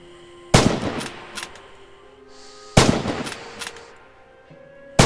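Two loud, sharp rifle shots ring out about two seconds apart in the Red Orchestra 2: Heroes of Stalingrad training range, each trailing a long echoing decay, with a third shot starting at the very end.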